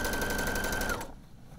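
Sewing machine running steadily through layered elastic on knickers, a fast even whir of rapid stitching for about a second before it stops and leaves a quieter room.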